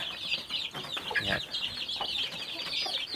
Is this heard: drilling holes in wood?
no